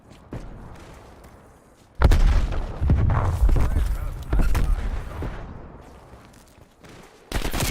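Gunfire crackles through a Call of Duty Cold War / Warzone match: sharp bursts and rapid volleys with heavy booms, coming and going over several seconds, mixed with players talking.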